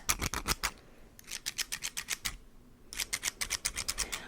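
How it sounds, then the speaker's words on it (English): A pair of thrifted scissors is handled up close, giving quick rhythmic snips and metallic clicks in three bursts with brief pauses between them, crisp and intimate with no talking. "I actually thrifted these scissors too"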